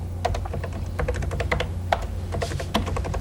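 Quick bursts of clicking keys on a computer keyboard, typed close up in irregular clusters over a steady low hum, in an office setting for information management software.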